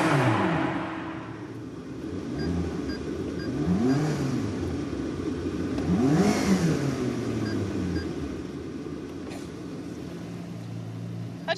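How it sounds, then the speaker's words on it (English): A McLaren sports car's engine and exhaust rev in sweeping rises and falls, loud and close, with several swelling throttle blips over a steady rumble and no talk. "I made that car sound like this."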